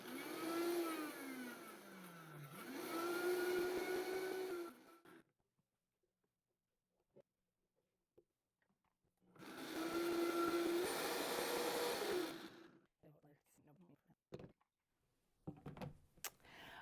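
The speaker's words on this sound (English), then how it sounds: "Okay, I think I have this all the way blended up." A kitchen blender whirring garlic into coconut oil, running in two loud, steady bursts of a few seconds each, its motor pitch rising as it spins up, separated by quiet pauses with faint clatter.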